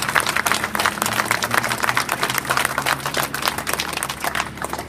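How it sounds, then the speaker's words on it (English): At an outdoor pride festival opening ceremony, a crowd applauds with dense, steady clapping that stays at a constant level through the whole stretch, with no voices over it. "So if we can give a big round of applause for everyone that's helped make this happen."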